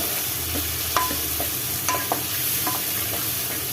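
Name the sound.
onions sautéing in oil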